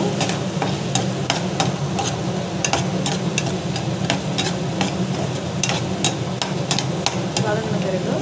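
Food sautés in a pan with a constant close sizzle, punctuated by a steady series of sharp spatula taps and scrapes against the metal.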